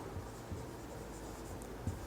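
Chalk or marker writing on a board during a physics lecture, faint scratchy strokes with a few soft taps over a quiet room hum.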